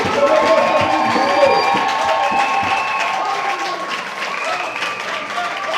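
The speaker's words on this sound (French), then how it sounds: "acclamez pour le Seigneur Jésus" A church congregation applauds and cheers for Jesus, with sustained clapping and scattered shouts filling the room and a voice calling out over the crowd throughout.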